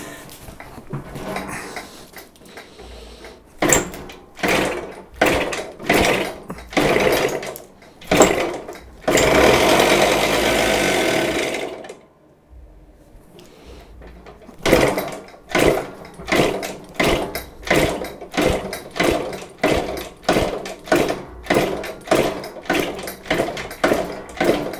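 Repeated kick-start attempts on a 1974 Yamaha DT100 barn-find motorcycle with brake cleaner sprayed in, giving bursts of rhythmic mechanical thumps and rasping spins, one longer sustained roar in the middle, then more steady strokes, close and loud.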